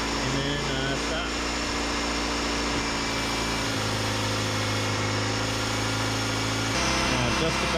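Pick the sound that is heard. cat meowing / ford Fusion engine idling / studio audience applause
ford Fusion engine idling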